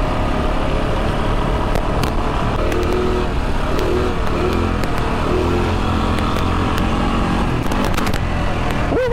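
Honda Rancher ATV engine with a snorkel fitted, running steadily up close at a loud, constant level, with a rough, busy motor drone and a few brief rev swells throughout.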